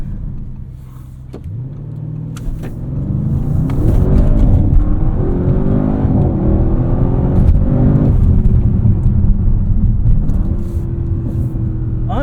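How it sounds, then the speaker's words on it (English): A 2024 Audi RS7 with a 4-liter V8 launches hard from a standstill, its engine note climbing through rising revs with a gear change, loud and close from inside the cabin, rumbling deeply throughout. "I'm not sure if that was launch control or just a boosted launch."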